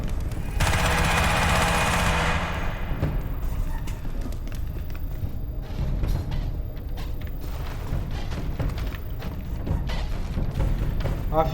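Sustained automatic machine gun fire in Crysis Remastered, a loud dense burst in the first few seconds followed by continued rattling shots and thuds under game ambience.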